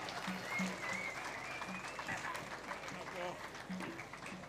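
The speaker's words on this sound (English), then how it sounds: "Warm applause." Warm applause for the Honorary Commodore of Clube Naval de Cascais at a sailing trophy prize-giving ceremony, steady moderate clapping from a crowd with low murmuring voices underneath throughout.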